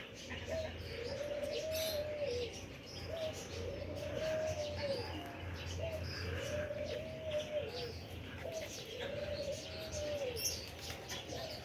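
Domestic tumbler pigeons cooing outdoors, soft repeated rising-and-falling coos coming about every two seconds, fairly faint and distant against a quiet background.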